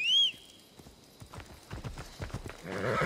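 A summoned horse in Assassin's Creed Odyssey: a brief whinny opens, then hooves clip-clop in an accelerating rhythm as it gallops closer, ending in a louder burst of rustling movement.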